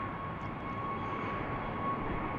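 Southwest airliner departing BWI airport, a steady broadband engine roar with a faint steady whine above it, holding at an even moderate level throughout without any voices.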